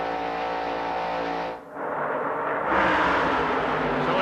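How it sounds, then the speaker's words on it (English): IROC race car at Daytona International Speedway in 1995, heard from inside the car at wide-open throttle: a loud, sustained engine roar that dips for a moment, then swells back to full power. "you listen to the accelerator, they are not backing off the throttle"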